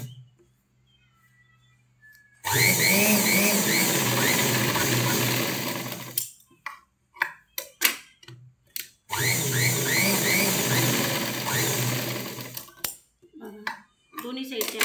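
A sewing machine stitches half-inch tucks on the back of a garment with a slanted stitch. It runs in two sustained bursts of several seconds each, with quieter clicks and fabric handling in the pause between them.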